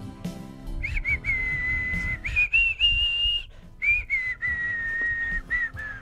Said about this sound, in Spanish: quiero silbar Leti B.